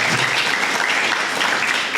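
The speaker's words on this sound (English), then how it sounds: "Let's give them a round of applause for all their support." Steady, full applause from an audience at an awards ceremony, sustained without a break for a couple of seconds.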